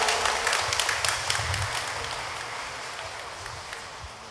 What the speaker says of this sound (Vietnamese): Xin cộng đoàn cho một tràng pháo tay để chúc mừng ạ.